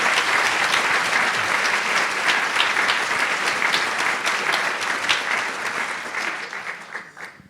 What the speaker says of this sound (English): So let's give a round of applause for Dr.